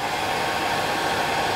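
Steady, loud whoosh of a hair dryer blowing warm air over fly-tying thread and hackle fibres, a continuous broadband roar with no breaks and no talking.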